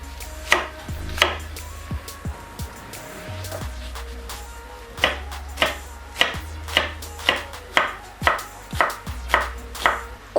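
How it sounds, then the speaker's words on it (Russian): A knife dices onion on a cutting board while cooking chicken goulash, firm rhythmic chops that speed into a steady run of sharp, close strikes, with no speech. "Лук чистим и нарезаем его кубиком."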